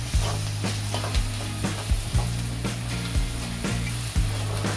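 Ginger-garlic paste frying in a pan with browned onion for chole, a steady close sizzle broken by regular stirring scrapes roughly once a second, with a low constant hum underneath.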